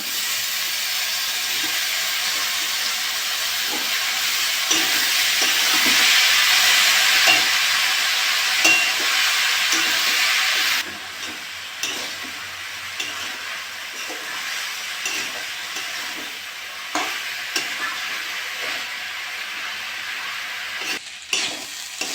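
Chopped banana flower frying with spices in a pan, a strong steady hissing sizzle that drops back to a quieter bubbling after about ten seconds, punctuated by repeated scraping stirs and a few clinks.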